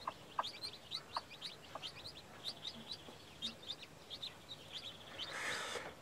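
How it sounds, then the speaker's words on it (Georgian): Newly hatched chicks on a farm, some hatched in an incubator and some under a hen, peep in quick, high, repeated chirps at moderate distance, with a brief broader rustle near the end. "ინკუბატორიდან გამოჩეკილი წიწილი და კრუხით გამოჩეკილი"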